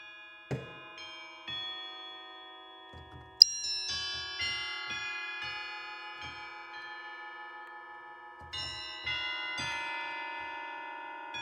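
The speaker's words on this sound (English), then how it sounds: "dreadful melody played on the bells" Bell voices of a dusty Viscount Vivace 10 Deluxe organ play a slow, halting melody, each struck note ringing out and decaying under the next, with several louder accented strikes across the passage; no talk.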